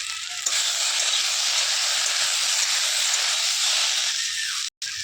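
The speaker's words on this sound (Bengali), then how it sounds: "এবারে সবজিটা একটু হালকাভাবে ভেজে নেবো" Vegetables with onion and spices frying in oil in a pan for a fish curry with potato and elephant foot yam, giving a loud, steady, close hiss that runs alone before cutting off briefly near the end.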